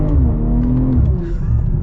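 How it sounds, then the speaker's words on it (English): A 2023 BMW M340i accelerating hard, its engine note rising in a loud, steady drone close to the car, with the performance exhaust burbling and crackling lightly throughout, and no talking. "the exhaust does like little burbles and everything"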